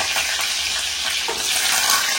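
Garlic frying in hot oil in a clay pot alongside mustard seeds and fenugreek, a steady close crackling sizzle with no talk.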